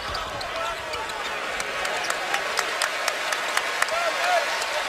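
Inside a Louisville versus North Carolina basketball arena in 2017, the crowd applauds and cheers in a steady roar, with sharp claps and ball bounces popping through while a commentator talks over it.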